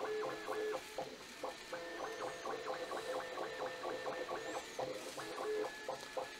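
A Bambu A1 3D printer runs fast with budget hyper PLA filament, its stepper motors giving a steady run of rapid rising and falling whirring tones in short repeated bursts, close and alone.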